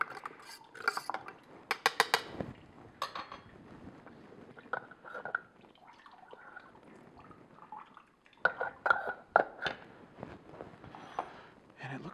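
Fresh citrus juice being stirred in a container to separate it from the fibers, with irregular clinks, taps and scraping of a utensil in bursts, close and fairly quiet, amid low background noise.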